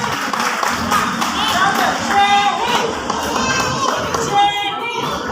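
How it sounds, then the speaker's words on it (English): A crowd claps and cheers for young children at an Independence Day and Janmashtami event, amid lively chatter and children's voices, a busy, sustained burst of applause filling the space. "A huge round of applause for our little ones."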